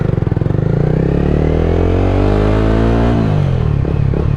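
A motorcycle engine revving hard right at the exhaust, a loud throbbing roar whose pitch climbs and then falls before a few sputtering blips.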